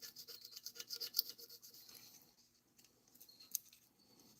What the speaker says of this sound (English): Try to get any last remnants of these gasket surfaces super clean